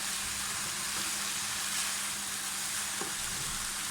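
Restaurant-style chicken fried rice sizzles steadily in a hot pan while being stirred, with a constant frying hiss and a couple of faint utensil clicks.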